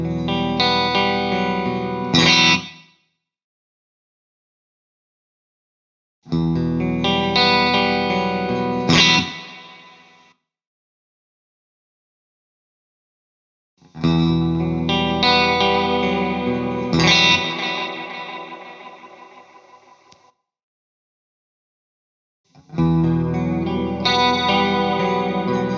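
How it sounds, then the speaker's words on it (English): Electric guitar tone drenched in reverb, chorus and effects for a 1980s vibe, played in four separate bursts of sustained chords with long ringing tails, separated by silent gaps. "We're going to start with the reverb just so we get that nice 1980s type of vibe to it."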